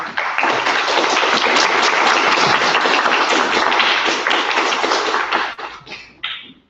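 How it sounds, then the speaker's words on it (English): An audience at a basic income seminar in Turku breaks into warm, sustained applause, a dense and loud clatter of many hands that thins out and fades near the end. "Let's give a warm applause"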